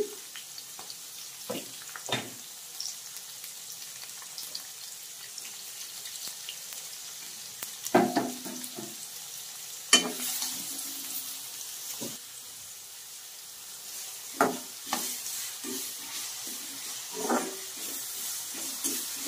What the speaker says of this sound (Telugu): ఇప్పుడు ఆనియన్స్ వేసుకుందాం